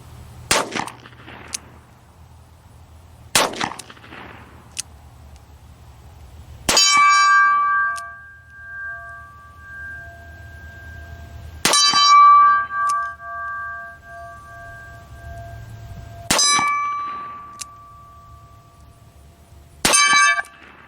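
Smith & Wesson Model 10-2 revolver fired single action at a hanging steel plate: four loud gunshots spaced several seconds apart, each followed by a sharp ringing clang from the struck steel, with softer knocks and handling noise early on.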